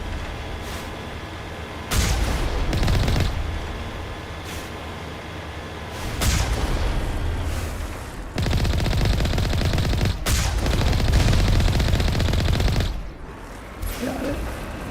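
Geth turrets in the Mass Effect 1 video game fire in loud repeated bursts of rapid gunfire, several volleys across the stretch with brief gaps between them.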